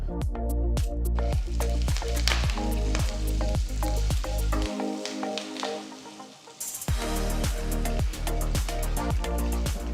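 Dried and green chillies with curry leaves and a pinch of asafoetida fry in hot oil for a rice dish, giving a steady crackling sizzle over a bed of other background sound.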